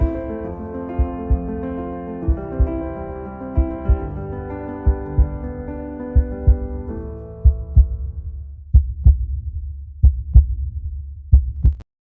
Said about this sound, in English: The heartbeat gives me chills at the very end of it.